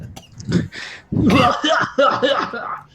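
A person coughs hard in short, rough bursts after choking on a drink, a loud, close fit that breaks off and starts again, with a little strained laughter mixed in.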